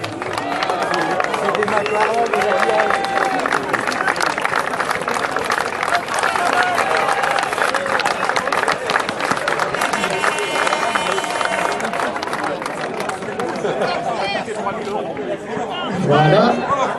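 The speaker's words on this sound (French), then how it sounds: "Et on applaudit." Spectators at a WRC rally prize ceremony in France applaud the winner, a long steady wash of clapping mixed with crowd chatter and babble, sustained and fairly loud, with a low swell near the end.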